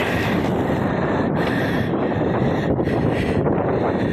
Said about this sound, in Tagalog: Mabagal ang takbo namin kasi sobrang lakas ng hangin.